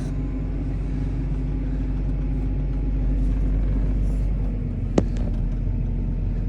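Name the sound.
diesel tractor engine running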